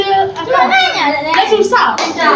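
Children clap their hands together in a classroom religious education lesson, a few sharp claps mixed under loud, close children's singing and chatter.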